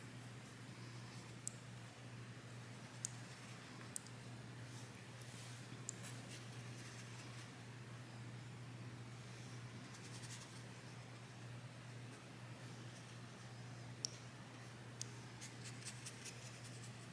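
Acrylic gouache brushed onto the paper of a watercolor sketchbook, giving soft, faint scratchy strokes with a few small ticks over a steady low hum, with no one talking.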